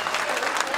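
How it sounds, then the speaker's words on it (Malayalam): A crowd at a Malayalam comedy stage show breaks into a dense, even wash of clapping and cheering, loud and continuous for the whole brief moment. "ഒരു നല്ല കൈയടി പൊട്ടട്ടെ"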